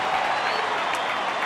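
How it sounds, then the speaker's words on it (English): A baseball crowd at a Yankees game cheers and applauds in a broad, dense roar that stays even for a moment. "Now let's go Yankees cheer from the crowd here"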